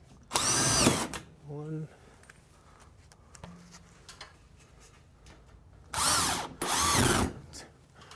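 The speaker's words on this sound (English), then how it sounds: "we just put it up with drywall screws" A power drill drives drywall screws into a ceiling in three loud whirring bursts, one short and two longer, with brief speech and quiet pauses between them.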